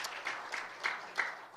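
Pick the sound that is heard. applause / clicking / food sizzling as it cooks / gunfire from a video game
applause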